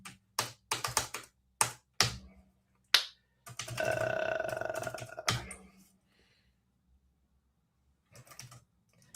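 Keys clatter on a computer keyboard in separate, uneven taps, with a longer burst of rapid clicking in the middle, then quiet with a few late taps.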